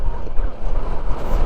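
Strong wind buffeting the microphone while riding a Honda ADV160 scooter, a loud, gusty low roar filling the short stretch with no voices.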